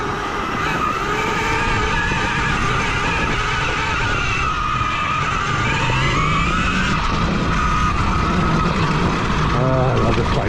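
KTM Freeride E-XC electric dirt bike accelerating along a rutted off-road trail over leaves, a steady wash of motor whine and tyre noise with wind rumble running throughout at close range.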